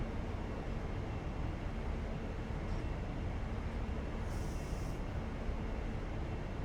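Diesel train engine in the game Train Simulator 2020 on the Great Western line from Didcot to London, a continuous low, broadband rumble holding steady throughout, with a brief faint higher tone partway.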